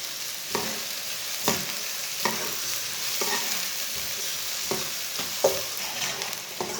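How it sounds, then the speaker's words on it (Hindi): Finely chopped onions brown in oil in a pan for potato chicken curry while a spoon stirs them, a steady sizzle punctuated by regular sharp spoon scrapes and clicks, with no one speaking. "प्याज को ऐसे ही चम्मच चलाते हुए ब्राउन करना है, एक साइड से जलने नहीं देना"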